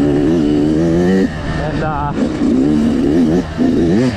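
Dirt bike engines, including a KTM, rev and drone loudly on a spring trail ride, the pitch rising and falling in waves, while someone talks over them.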